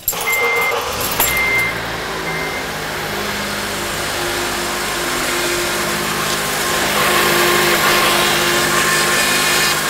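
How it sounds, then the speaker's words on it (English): A car engine cranks and catches with a brief starter burst, then settles into a steady, fairly loud idle that hums on without other sound. "Now let's start the vehicle"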